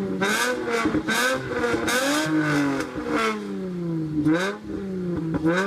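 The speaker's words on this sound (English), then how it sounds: "The 2-valve motor has a very unique yet distinguishable V8 sound, but the VQ V6 motor just simply sounds beautiful." Mustang GT two-valve V8 or Infiniti G35 VQ V6 engine revving: repeated close throttle blips, each rising and falling in pitch in a rhythmic series over a steady idle, no talk.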